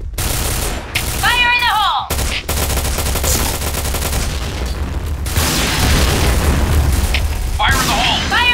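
Loud video game combat: a grenade explosion booms amid dense bursts of rapid gunfire, with shouted voices over the battle and sharp metallic weapon sounds.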